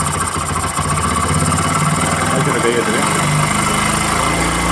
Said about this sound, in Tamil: இப்போ நம்ம ஐலிங் வைக்கிறோம்